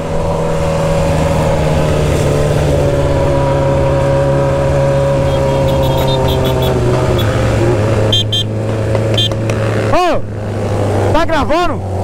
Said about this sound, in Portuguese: Vou agitar esse vai e volta de moto, meu Deus.